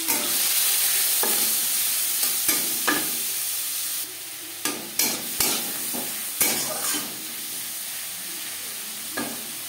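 Shrimp frying in hot refined oil with turmeric powder and salt, giving a steady, close sizzle throughout with scattered sharp ticks and scrapes of stirring, louder bursts after four seconds.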